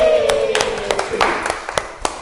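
A school class of students gives a short burst of scattered, uneven claps, close by and mixed with voices talking over them.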